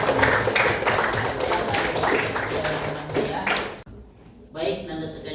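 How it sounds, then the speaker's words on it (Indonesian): Schoolroom class applauding at the end of a lesson, a dense clatter of many hands clapping for about four seconds, then dropping off to quieter room sound. "Oke, tepuk tangan."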